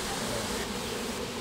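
Bees swarm around a bee tree being worked on by a beekeeper and tree crew, a dense steady buzzing close by that fills the whole moment without pause.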